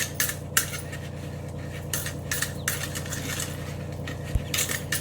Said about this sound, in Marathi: हे बघा आता राहिलेलं पण मी असं चाळून घेते चांगलं.